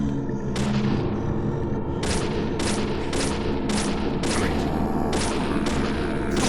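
Gunfire in the video game Deadly Premonition: a series of sharp, loud shots fired in irregular bursts over a constant rumbling game background.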